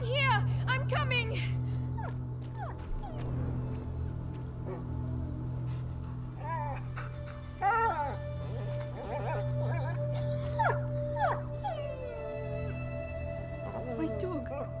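A dog in the video game A Plague Tale: Innocence whimpers and yips in repeated high, wavering cries, close and fairly quiet, over low ambient game music.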